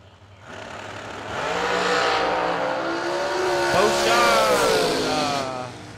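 Supercharged and ProCharger drag race cars launching side by side at a drag strip, a rising engine roar that swells, holds loud and revving for several seconds, then cuts off abruptly, with faint commentary underneath.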